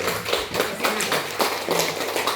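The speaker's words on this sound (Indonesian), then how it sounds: "Tepuk tangan untuk SMA" Applause for SMA Santo Yoseph Tanah Merah at an Adiwiyata school environmental competition, a dense patter of clapping hands with uneven swells running throughout, close and fairly loud.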